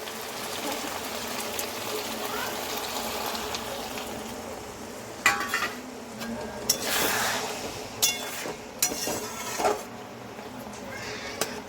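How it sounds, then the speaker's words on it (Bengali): Water is poured into a pan of frying prawn curry with potatoes. A low, steady sizzle gives way to splashing gushes and clinks of a utensil against the pan partway through, with no talking. "এবার জলটা দিয়ে দেবো"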